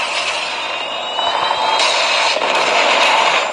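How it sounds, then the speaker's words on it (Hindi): A predator missile strike in the mobile shooter BGMI/PUBG hits with a loud, dense roar of explosion and rumbling debris that holds steady and swells slightly for several seconds. "Predator missile inbound."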